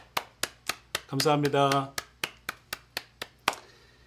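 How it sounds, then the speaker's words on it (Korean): A church congregation at a Korean worship service claps about a dozen times in a steady, even rhythm, each clap sharp and distinct, with someone briefly speaking over the clapping partway through. "우리 하나님 앞에 영광의 박수 올려드리겠습니다"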